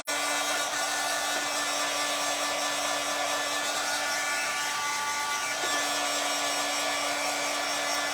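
A loud dryer blowing steadily to dry clay and wax castings, a harsh continuous whine with a constant hum underneath, close to the microphone and alone for the whole stretch.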